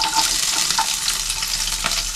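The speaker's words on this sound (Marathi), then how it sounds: "तर इथे बघा तेल चांगलं तापलेलं आहे. तर आपण ज्या मिरच्या कापलेल्या आहेत ना ते आपण टाकूया." Cut green chilies crackle and sizzle in hot oil in a wok, a steady broadband frying hiss with a few sharper spits and pops, close and loud throughout with no talking.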